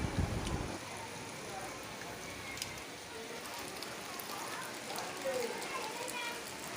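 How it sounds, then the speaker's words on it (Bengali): Steady monsoon rain falling, a dense continuous hiss of drops at moderate level, with a louder thump at the very start. "আর এত বৃষ্টি সকাল থেকে, শুধু বৃষ্টি আর বৃষ্টি।"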